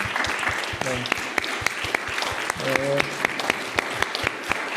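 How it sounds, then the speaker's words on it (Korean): A church congregation at a Korean Sunday worship service claps to welcome newcomers, with sharp distinct hand claps in a loose rhythm heard close and indoors, while a voice speaks briefly over them. "새로 오신 분들 잠깐만 일어나 주시면 박수로 환영하겠습니다"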